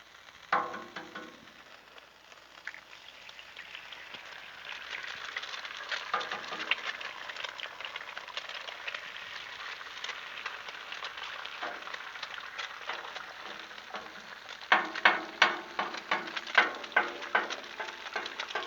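Eggs frying on a Blackstone flat-top griddle: a steady soft sizzle and crackle throughout, with a few sharper pops and scraping taps near the end.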